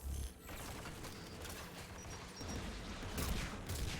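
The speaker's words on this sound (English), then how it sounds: "There, the anti-aircraft guns." Anti-aircraft guns firing in the Mass Effect 3 sci-fi shooter, a rumbling stream of muffled distant bursts and low booms under general battle noise, swelling near the end.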